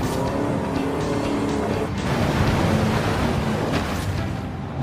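A Nissan Titan Warrior truck is driven in Forza Horizon 5, its engine droning steadily and loudly with some tire noise and no talking.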